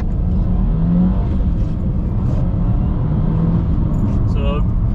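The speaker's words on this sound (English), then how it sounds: "So I wanted to do a little bit of wet acceleration from a dead stop," A 2022 Subaru WRX is floored from a dead stop on a wet road in the rain, its engine a steady loud roar with tire hiss, and a voice talks over it throughout.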